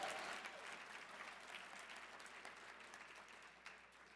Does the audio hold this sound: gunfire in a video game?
no